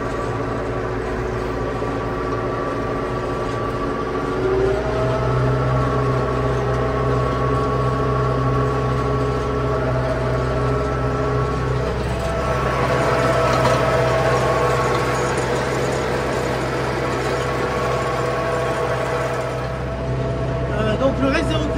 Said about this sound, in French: Allez, on remet la prise de force en route, on remet la vitesse